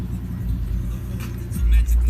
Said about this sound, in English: Trailblazer V6.